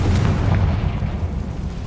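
A Confringo spell blast from the game Hogwarts Legacy gives a loud, deep, rumbling boom that fills the whole short moment with heavy low-end roar and fades slightly.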